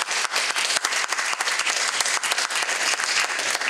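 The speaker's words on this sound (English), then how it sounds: "I think I'm glad I told you to clap." An audience at a WordPress talk claps after the show ends, close and fairly loud, with individual claps standing out within the steady applause and no talking over it.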